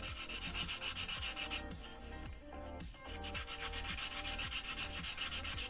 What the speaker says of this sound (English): So let me just slightly scuff up the tube.